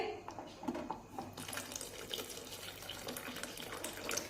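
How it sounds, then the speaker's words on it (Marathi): Water is poured into a pan of spinach curry (palak gargata), a short continuous splashing pour heard close up. "त्यानंतर यामध्ये गरजेनुसार पाणी टाकून घेते"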